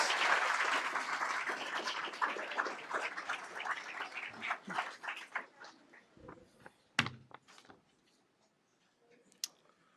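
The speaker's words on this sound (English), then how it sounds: "let's give him one more round of applause." Applause for students at a school board meeting, a dense crowd clapping loudly that thins into scattered claps and a few sharp final hits before fading to quiet.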